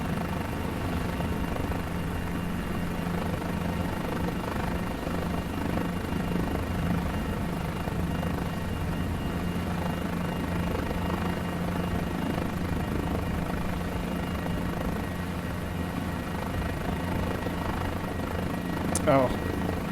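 A Guimbal G2 helicopter's rotor and engine in the MSFS2020 flight simulator drone on as a continuous, steady hum with a low, even throb, at moderate level throughout.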